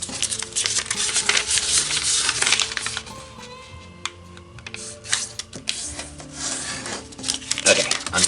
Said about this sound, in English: So fold the four corners to the center.